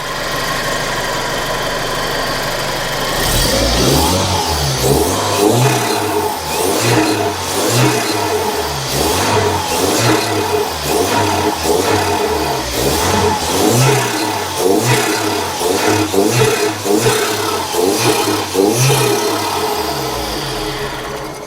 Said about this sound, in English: it sounds like the wastegate's opening